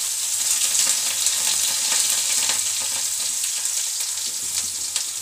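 Chopped onion and green chili frying loudly in hot oil with cumin seeds in a pan, a dense steady crackling sizzle running the whole time with no voices.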